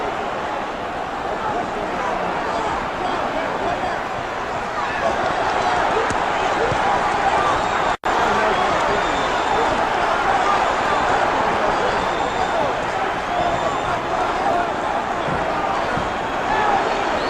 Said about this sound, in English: The crowd, needless to say, is in a bedlam.